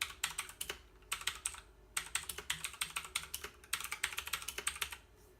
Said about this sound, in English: just typing a little bit, I mean, it's pretty loud too